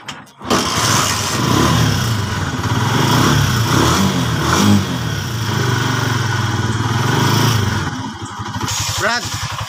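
A motorcycle engine starts and then runs steadily close by with a few revs after its voltage regulator is replaced. The owner is fixing a battery that keeps going flat and a flickering tail light and headlight. Voices talk over the engine.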